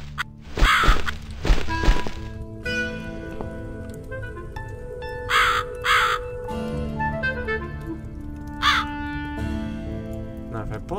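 A crow caws repeatedly in the video game The Cat Lady, harsh calls coming in pairs over a rain-like background and a low sustained ambient tone, with a voice talking at times.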